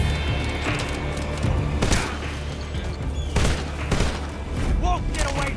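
Gunfire in the stealth action game Metal Gear Solid Delta: Snake Eater, a loud fusillade of repeated shots and booms in rapid bursts, with voices shouting over the battle.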